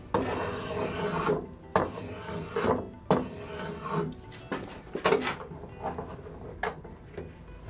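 A rasp filing the corner of a wooden handle clamped in a vise, rounding it over, a steady series of rough scraping strokes in an even back-and-forth rhythm, close and moderately quiet.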